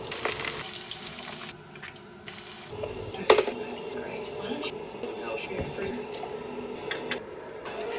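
Lemon chicken being double fried, a steady oil sizzle with a few clinks of utensils against the pan, heard up close while people talk over it.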